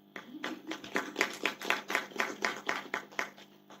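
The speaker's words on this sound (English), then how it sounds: "I thought we'd clap hands for that." An audience at an economics and finance faculty symposium and book launch claps hands in a short, fairly quiet round of about a dozen distinct claps, steady and evenly spaced, with no voices over it.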